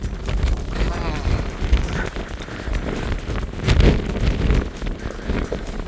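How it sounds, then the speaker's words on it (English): Strong wind buffets the microphone on the summit of Cruach Àrdrain in Scotland, a loud, continuous roaring rumble with gusty surges, while a person talks underneath. "The wind is just ridiculous."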